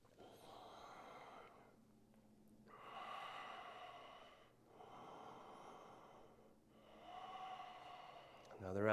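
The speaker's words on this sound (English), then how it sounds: "Give yourself a round of breath." A yoga instructor takes slow, deep breaths in a low lunge, three long audible inhale-exhale cycles, soft and close, with no talking.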